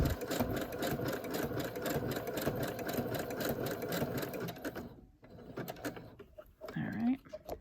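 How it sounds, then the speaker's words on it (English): A sewing machine stitching plastic panels runs in a fast, steady mechanical chatter for about five seconds, then stops, leaving quieter handling noises and a brief voice. "Yeah, yep, sewing plastic."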